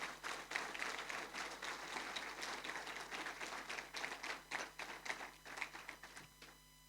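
A church congregation claps for the Lord during a sermon, a loose, fairly quiet patter of hands that settles into rhythmic unison beats before fading out.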